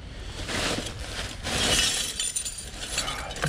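Discarded glass items such as kitchen and tea accessories clink and rattle against each other as someone rummages through them, a dense, continuous clatter heard close up without any talking.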